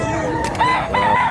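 A rooster crows once, close and loud, its call rising into a drawn-out, wavering note with a short break partway through, over soft background noise.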